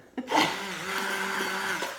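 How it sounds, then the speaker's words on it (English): A blender making pink salt scrub whirs steadily with a high-pitched motor hum, starting abruptly and running continuously at moderate volume. "hopefully you can hear me over the blender."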